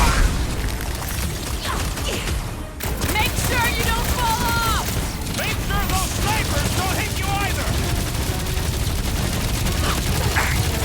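Bursts of gunfire laid down as cover fire in Marvel's Guardians of the Galaxy video game, a dense steady barrage of shots with chirping, whistling effects over it, loud throughout.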